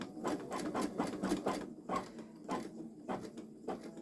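A Babylock Solaris Vision embroidery machine runs slowly through long stitches, its needle thumping in a steady, unhurried rhythm of close mechanical clicks and whirs with no voices.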